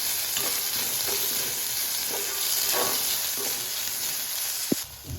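Crushed ginger fries in a pan for a Jaffna-style beef curry, giving a steady close sizzle with repeated stirring scrapes and one sharp clank near the end.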